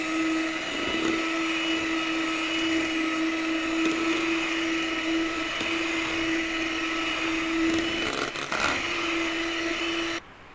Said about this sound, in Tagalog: Ngayon naman, imimix lang natin gamit ang ating electric mixer.